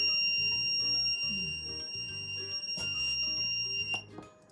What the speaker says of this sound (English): Okay, so now this alarm is active, and if some intrusion happens in between, alarm triggers.